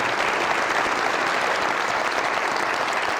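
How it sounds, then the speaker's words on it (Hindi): A studio audience at the Mazaaq Raat comedy talk show gives a loud, dense round of applause for actor Mohib Mirza, holding steady without a break. "बहुत सारी तालियां मोहिब मिर्जा के लिए।"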